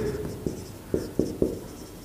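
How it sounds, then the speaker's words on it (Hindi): A board is written on, with a run of short tapping and scratching strokes, a few sharper knocks spaced unevenly, close and fairly clear, no speech over it. "तो मैं काम करता हूं यहां पे मैं सारी फेज लिख देता हूं"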